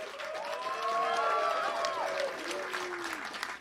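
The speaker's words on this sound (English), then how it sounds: "As you can hear, we've got an extra enthusiastic crowd this afternoon" An enthusiastic audience applauds and cheers at a live jazz broadcast from a college concert hall, with a steady wash of clapping and rising shouts and whoops sustained loudly throughout.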